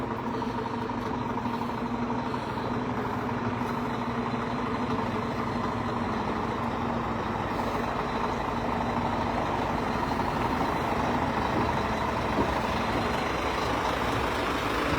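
A heavy truck rumbles slowly along the roadside near an overturned scrap-metal lorry, a steady loud engine drone with no break throughout.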